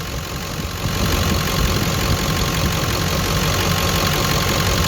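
A car engine idles steadily at close range during air-conditioning diagnostics on a weak or failing AC compressor, giving an even, continuous mechanical drone that grows slightly louder after the first second.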